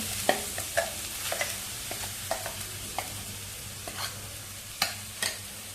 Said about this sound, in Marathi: आपण मध्यम गॅस करून तुपावरती खोबरं चांगलं परतवून घेऊया